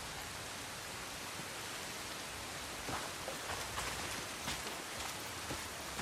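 Steady rain falls at night in the video game Crimson Desert, a soft even hiss of drops spread across surfaces with a few louder patters, no voices over it.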